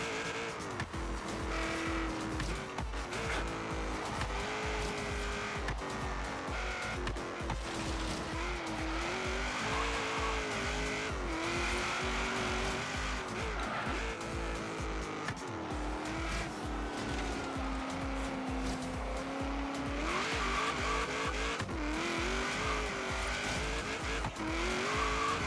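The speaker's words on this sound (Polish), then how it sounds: "teraz nawet potargałem troszeczkę gaz, żeby fajniej wystartować i poszedł." A race car in the video game Forza Horizon 3 revs and launches, its engine whining up and down through gears with tire squeal, loud and continuous throughout.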